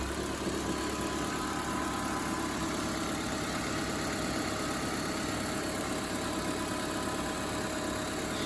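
A 2001–2005 Honda Civic engine idles steadily just after starting, following a power steering and alternator belt replacement, a close, constant mechanical hum with slight vibration and no break in level.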